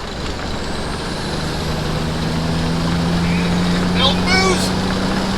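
A diesel truck with a 350 Big Cam engine and new injection pump drones loudly and steadily as it accelerates hard, its rising engine note heard from inside the cab under a faint voice.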